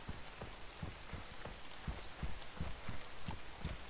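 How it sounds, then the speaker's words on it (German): Steady rain falls in the survival video game DayZ on a hillside with a view, a soft, even patter of drops with faint irregular low thumps, quiet and alone without talk. "Auch wenn es regnet, ist egal."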